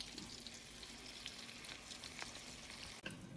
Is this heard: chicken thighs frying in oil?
yes